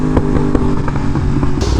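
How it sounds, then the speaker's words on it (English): A Yamaha R1M motorcycle with an aftermarket exhaust burbles loudly in 3rd gear, its steady engine drone broken by a run of sharp, irregular pops and crackles, close to the microphone. "let's go back to 3rd gear so that she's popping a little bit more"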